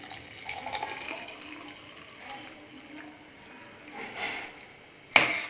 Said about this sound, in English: Now I'm going to filter this milk.